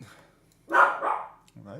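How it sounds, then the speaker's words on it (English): A dog gives a single bark at a moderate distance, between bits of someone speaking. "I apologize for the dog"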